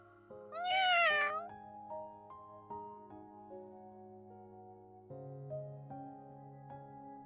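A kitten in the game Love and Deepspace gives one clear, rising-and-falling meow near the start, over soft sustained background music.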